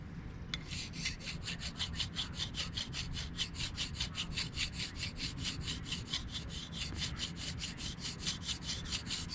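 A hydraulic cylinder rod from a 1962 Ford C750 cabover is polished by hand in quick, regular back-and-forth rubbing strokes, each a bright scratchy swipe, repeating steadily and close throughout.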